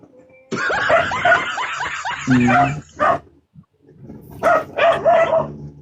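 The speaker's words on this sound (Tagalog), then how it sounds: "Ingay ng aso." A dog barks repeatedly in quick bursts, close and loud, with people laughing and chattering over the barking.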